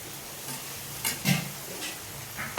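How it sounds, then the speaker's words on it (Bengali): Spice masala of ground coriander, cumin, turmeric, ginger and chilli frying in oil, a low sizzle broken by several scraping stirs of a spatula in the pan, close and moderately loud. "মশলা তেল ছেড়ে দিয়েছি, আমি আরেকটু ভেজে তোমাদেরকে দেখাবো।"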